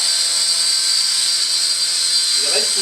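A small drone with altitude hold hovers in place, its propellers giving a steady high-pitched buzzing whine that stays loud and even throughout, with a brief voice near the end.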